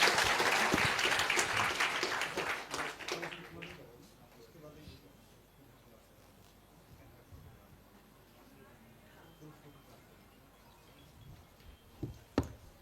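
Audience applause at a Delhi government schools event, loud dense crowd clapping for the first few seconds that fades to a quiet room with faint shuffling and a couple of clicks near the end.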